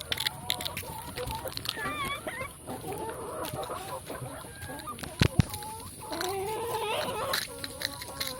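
Laying hens cluck and squawk in a semi free-range coop, with scattered calls near and far under a steady background, while a person speaks over them.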